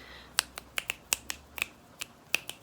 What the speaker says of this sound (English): snapping my fingers, and you tell me with your eyes closed on what side of the ear you hear these sounds popping